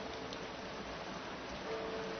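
Steady rain falling outdoors, a continuous even hiss of drops on surfaces that stays at a constant moderate level throughout, with no talking.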